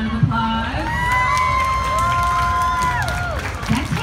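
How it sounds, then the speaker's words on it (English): Cheering and shouting from a live crowd after a Korean drum dance performance, loud and sustained with whoops and scattered clapping. "Give them another round of applause."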